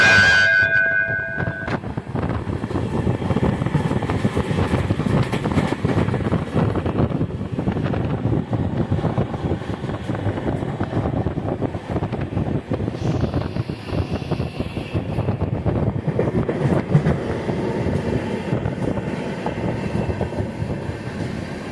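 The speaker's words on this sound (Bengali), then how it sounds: "মুম্বাই সিএসটি সুপারফাস্ট এক্সপ্রেস যে এত স্লো সেটা আমি জানি না" Mumbai CST Superfast Express running slowly, a continuous moderate rumble of rail carriages mixed with wind buffeting against the microphone, steady throughout with no speech.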